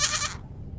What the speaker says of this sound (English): This is the sound that a goat makes.